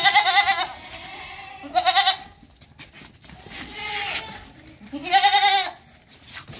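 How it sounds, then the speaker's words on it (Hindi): Goats, a male and female pair kept for sale, bleat loudly in several separate calls spread across the stretch, close by with quiet gaps between them. "ये बकरी है, बकरी और बकरा जोड़ा है, नर और मादा का"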